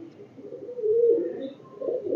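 Pigeons, a breeder pair, coo softly and close by in low, rounded swelling calls that rise in the middle and again at the end, with no voices.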